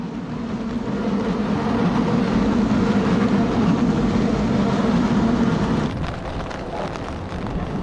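Train passing on a rainy Tokyo street, a steady loud rumble of wheels and carriages filling the whole stretch, then easing slightly as it moves on.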